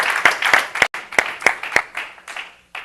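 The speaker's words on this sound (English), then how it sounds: "Give it up one more time, crowd, for Anthony." Audience clapping at a business education event, a small group giving a short, loud round of applause with distinct individual claps that trails off after about three seconds.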